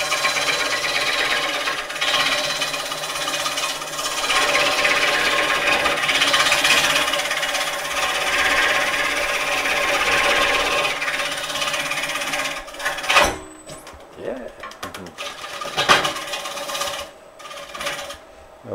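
Lathe scraper cutting a tenon on a wood bowl blank, a steady continuous rasping scrape for about twelve seconds that then breaks into short, uneven cuts and pauses.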